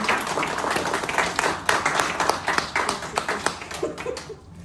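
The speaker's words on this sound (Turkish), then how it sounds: "Alkışlıyoruz." At a certificate ceremony for a rapid hypnosis training, an audience claps in a lively patter, the sound thinning out and fading toward the end.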